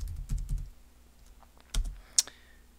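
A few scattered clicks of a computer keyboard while writing code, with short bursts of key presses early on, a quiet gap, then a couple more taps and one sharp click, close and fairly soft in a quiet room.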